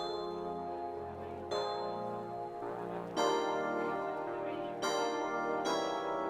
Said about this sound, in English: I'm going to take out all the bass notes and pitch it up an octave in the Harm Octobell preset.